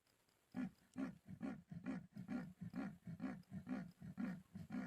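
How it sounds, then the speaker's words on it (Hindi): Leopard roaring in the hills, a steady series of rough, rasping roars repeated in a sawing rhythm, distant and faint, with no voices over it. "अभी भी दहाड़ रहा है लेपर्ड।"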